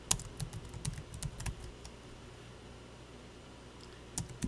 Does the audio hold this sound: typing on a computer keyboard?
yes